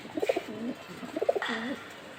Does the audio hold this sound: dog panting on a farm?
no